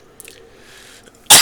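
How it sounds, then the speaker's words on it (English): A man's single loud, close cough bursts out at the very end after a near-silent pause with a few faint throat sounds. "I'm sorry about the cough, folks."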